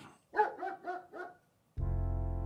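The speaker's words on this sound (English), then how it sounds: "we'll see that we've got the dog barking and the pre-show both running together" A dog barking sound effect plays as a show-control cue: five quick barks, close and clear. It then cuts abruptly to a steady, dense tone from the pre-show audio running with it.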